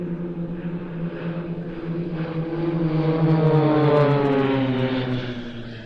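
An Extra 330 SC aerobatic propeller plane drones overhead at an airshow practice, its engine tone swelling steadily louder toward the middle and then easing, alone without voices.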